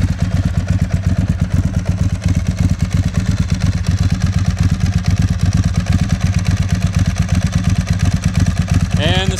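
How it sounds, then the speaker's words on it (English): Loud exhaust of a Ducati 996 motorcycle idling, a rapid, lumpy, throbbing beat that runs unbroken and close for nearly ten seconds. "First of all, there's the exhaust."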